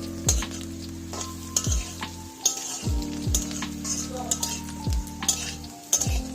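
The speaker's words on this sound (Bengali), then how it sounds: "শুকনো লঙ্কা দিয়ে এটা ভাজা করছি" Pumpkin peel frying with dried red chillies in a pan, a steady close sizzle broken by repeated scraping stirs and a few clinks of a utensil against the pan.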